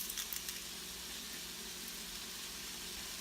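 Leeks, shallots, cumin and garlic sizzle steadily in a hot pan, a continuous crackling hiss with a few brief knocks at the start and no voices.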